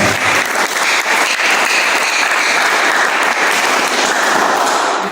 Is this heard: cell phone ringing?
no